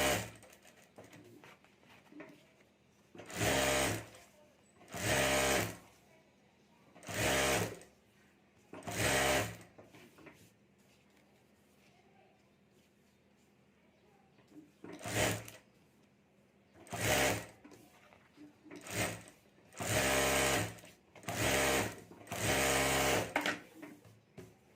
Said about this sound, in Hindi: तो यहाँ भी मैं ऊपर चारों तरफ सिलाई कर देता